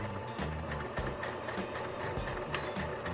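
Sewing machine running steadily while stitching a zigzag seam on fabric for an Easter gift bag, a continuous close mechanical whir with rapid needle ticking throughout.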